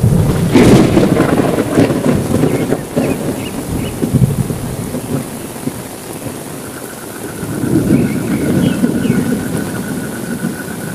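Steady rain falls at night while deep rolls of thunder rumble in two long waves, loud and close, with no voices.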